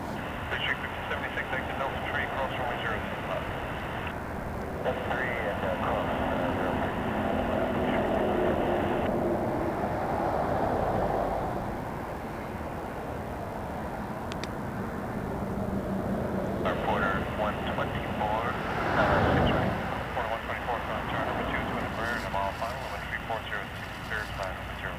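Aircraft at Toronto Pearson Airport give off a steady roar of jet noise that swells and fades across the recording, with a person talking throughout and a radio-like voice underneath.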